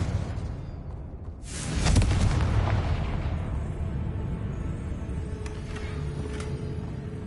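In Hogwarts Legacy, a Confringo fire spell bursts with a sharp whooshing blast and a deep rumbling explosion, then settles into a sustained low roar with faint crackles.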